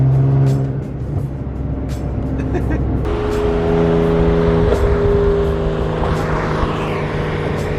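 A BMW with a modified exhaust idles and revs loudly, its deep rumble rising and holding, with a few sharp pops and some background chatter.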